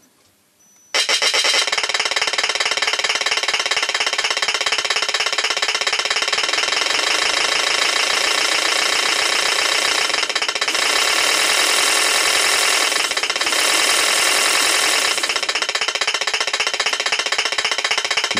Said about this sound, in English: if I give the slightest pressure on the throttle, then it remains on and it idles